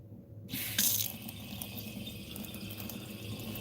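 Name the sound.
water running from faucet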